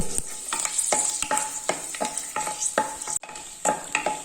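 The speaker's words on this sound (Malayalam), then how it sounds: "ഒരു മൂന്ന് ഗ്രാമ്പു ഒരു ഏലക്ക ചതച്ചത് ഇതും കൂടെ ഇട്ടിട്ട് നന്നായിട്ട് ഒന്ന് മൂക്കണം" Cloves and crushed cardamom fry in oil while being stirred, producing a steady bright sizzle broken by repeated rhythmic scrapes of a spoon against the pan.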